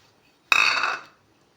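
Onions tossed into hot oil in a pan while making cheera thoran, setting off one sudden loud sizzle that fades out within about half a second.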